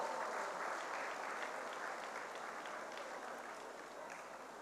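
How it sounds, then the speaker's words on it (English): An audience at a company's anniversary function applauds, a dense, steady wash of many hands clapping that holds evenly and fades slightly toward the end, heard from some distance. "Let's give them a big applause for their dedication and hard work."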